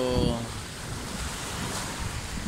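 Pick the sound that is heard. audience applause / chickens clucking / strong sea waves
strong sea waves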